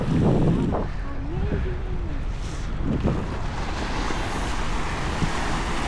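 Steady wash of sea waves and engine rumble from a boat out at sea, with brief voices and a short whistle-like tone over the constant noisy background.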